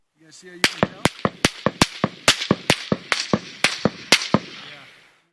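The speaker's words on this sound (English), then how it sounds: "we hear the supersonic crack of bullets flying overhead and landing very far away" Over a dozen sharp, loud supersonic cracks of bullets passing overhead in quick, fairly even succession, each snapping out crisply against a quiet background.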